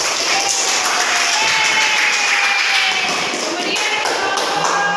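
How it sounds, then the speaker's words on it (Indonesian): Applause for the first group of presenting teachers in an Indonesian classroom teaching practice session, a steady dense patter of clapping filling the room with a faint murmur of voices underneath. "tepuk tangan untuk satu"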